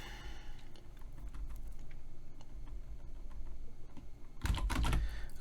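Keys tapped on a computer keyboard while entering a point command in GeoGebra, a run of light close clicks that turns into a louder, denser burst near the end.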